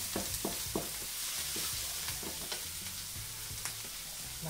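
Onion fried with a spoonful of sugar in a pan, a fairly quiet, steady hiss with close, rhythmic stirring scrapes and small taps throughout, and no one speaking.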